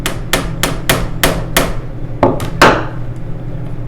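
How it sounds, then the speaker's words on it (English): A hammer driving a nail at an angle through the inside ring of a mason jar lid: about nine sharp metallic strikes, a steady run of six followed by three more, close and loud. "take your hammer"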